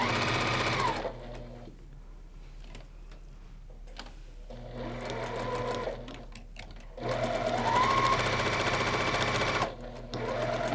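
A sewing machine stitches quilt units along drawn lines in short, loud, close bursts of rapid mechanical whirring and needle clatter, separated by near-silent pauses while the fabric is repositioned.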